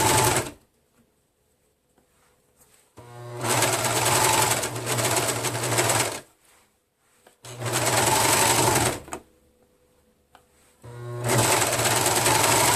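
A sewing machine stitches a sleeve into a garment in three loud, steady runs of a few seconds each, separated by quiet pauses.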